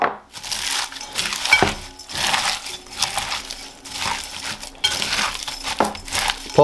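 Pickle chips are worked into a pound of ground buffalo burger meat, giving rhythmic, squishy, crinkling bursts of mashing and mixing close by, with short pauses between strokes.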